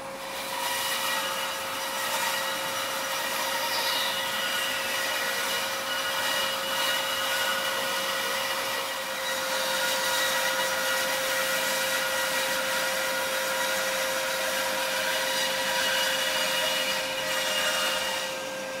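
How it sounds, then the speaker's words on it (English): A bandsaw runs steadily through a wooden archtop guitar top, cutting out its shape with a continuous whirring, rasping drone that holds at an even level throughout, with no talking. "And now, with a bandsaw, I'm gonna saw this shape out"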